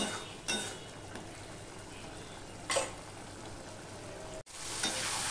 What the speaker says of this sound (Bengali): মশলাটা আমার অর্ধেক মতন কষানো হয়ে গেছে।